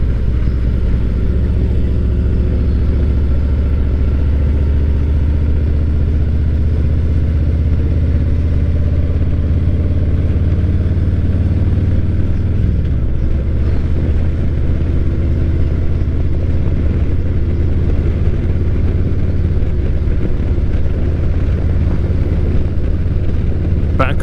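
A Harley Davidson motorcycle engine rumbles steadily and loud throughout a ride along an open road, its deep throbbing note rising and falling slightly with the throttle, with wind noise mixed in.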